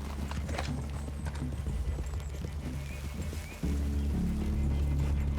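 Horses clip-clopping through a forest clearing in Red Dead Redemption 2, a busy stream of close hoofbeats from several horses over an outdoor ambience that grows heavier partway through.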